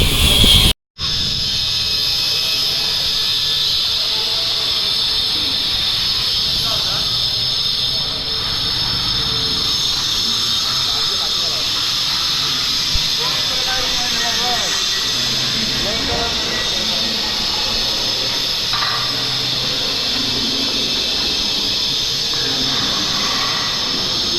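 A Konkan Railway train running from Ratnagiri station, with a steady rumble and hiss of the moving carriages throughout and a sharp break just after the start, while people talk over it.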